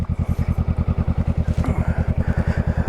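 Honda Rebel 500 motorcycle ridden on the road, its engine thumping in a fast, even pulse at steady speed with a little wind noise over it.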